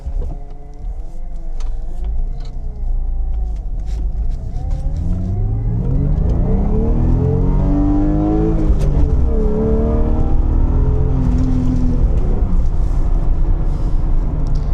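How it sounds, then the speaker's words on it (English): A BMW E36 328i engine revs hard through an acceleration pull with traction control off, pitch climbing and dipping as it runs up through the gears, loud and close with no talking. "let me turn off the traction control, and I will do one more pull"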